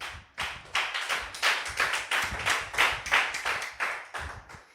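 A church congregation claps in a quick, rhythmic unison beat, many hands striking together in steady bursts that sound close and lively, with no talking over them.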